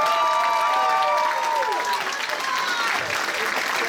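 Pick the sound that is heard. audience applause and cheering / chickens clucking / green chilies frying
audience applause and cheering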